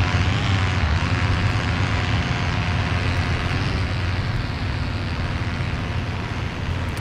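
The He 51 C-1 biplane's engine drones steadily in War Thunder arcade air combat, a constant, dense rumble that holds at even loudness throughout with no voices over it.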